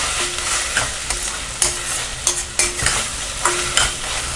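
Ginger garlic paste and tomatoes sauté in a pan for a pea and potato pulao, giving a steady close sizzle broken by repeated sharp spoon scrapes and taps against the pan.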